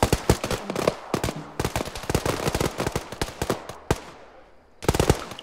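Rapid automatic gunfire fills an Arma 3 military simulation battle, with dense overlapping bursts and single cracks of varying distance, a short lull, then another close, loud volley.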